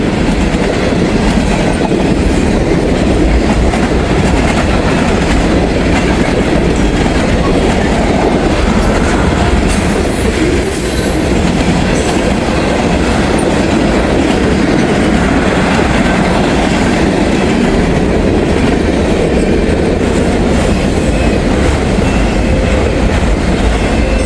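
A long freight train carrying open and articulated auto racks rumbles close past for the whole stretch, a loud, continuous roar with steady wheel clatter and faint high squeals, and no voices.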